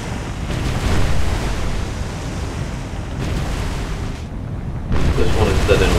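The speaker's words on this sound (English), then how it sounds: "Very windy." Strong wind roars over the open sea in the naval game War on the Sea, a broad, loud rushing wash with surf-like swells that dip briefly before surging back.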